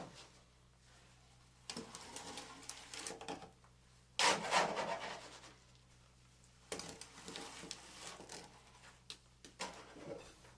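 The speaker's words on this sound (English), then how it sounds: "fill the second third of the cone by volume, moving the scoop around the perimeter" A scoop working fresh concrete into a slump cone, filling the second layer around the perimeter: several separate bursts of gritty scraping and rubbing, each a second or two long, with quiet gaps between them.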